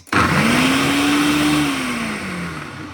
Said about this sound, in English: So put it on and then blend.